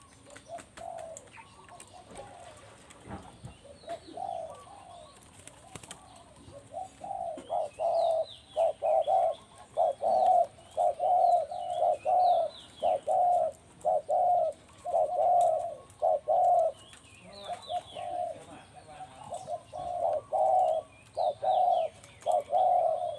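A Thai dove coos repeatedly in a steady rhythmic pattern, deep hooting calls close by, with faint chirps from other birds in the background.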